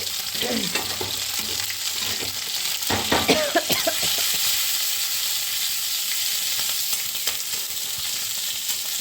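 Mustard greens frying with garlic and green chilies in a pan, a loud continuous sizzle with bursts of stirring and scraping clatter near the start, then steady crackling hiss.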